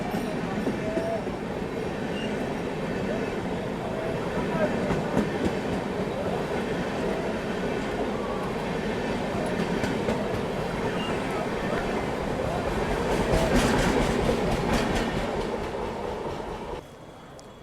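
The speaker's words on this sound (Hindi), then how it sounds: "कोल्हापुर धनबाद दीक्षा भूमि एक्सप्रेस।" The Kolhapur–Dhanbad Dikshabhoomi Express rushes past close by, a loud continuous roar of wheels and rattling coaches with rhythmic clatter throughout, swelling near the end before the noise drops away suddenly.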